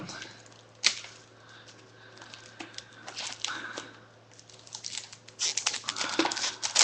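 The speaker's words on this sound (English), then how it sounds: "So I've got my scissors here. Give this a little cut." Crisp snips and crinkling as scissors cut the sealed plastic wrap of a Duel Masters card deck, close by, with a steady low hum underneath.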